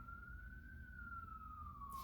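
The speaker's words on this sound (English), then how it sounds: "Do you hear those sirens in the back?" An emergency vehicle siren wails faintly in the distance, one long slowly rising and falling tone over low background rumble, with no speech.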